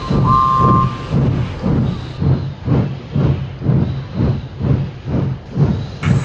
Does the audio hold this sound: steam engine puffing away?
yes